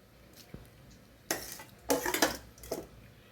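Rice for lemon rice being stirred together with masala in a metal vessel, giving a few scraping, clinking bursts of spoon against pan, close and fairly quiet, with no talking.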